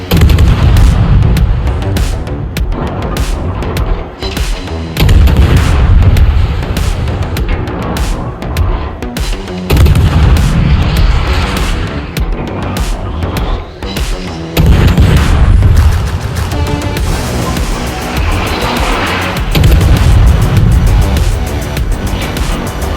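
Repeated naval gunfire from the German Tier 1 cruiser Hermelin in World of Warships, heavy booming salvos recurring every few seconds amid continuous loud battle noise, with no talking.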